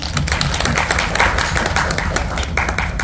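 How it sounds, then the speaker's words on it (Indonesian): Audience applause for the speakers at the close of a student public-speaking presentation event, a steady, fairly loud patter of many hands clapping together for about three seconds with a faint low murmur underneath. "Sekali lagi kita berikan tepuk tangan yang meriah"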